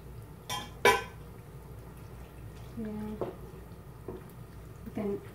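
Boiling pasta is tipped into a cooking pot for a tomato sauce dish, with a couple of sharp metallic clanks and knocks, then quieter clinks and scraping against a faint background.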